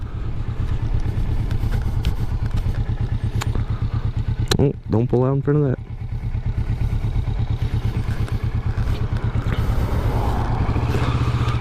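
A motorcycle engine drones steadily at close range throughout, with a rider briefly speaking over the rumble partway through.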